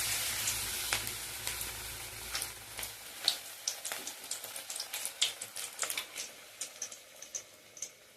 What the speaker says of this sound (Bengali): এইভাবে আমি ভেজে নেব।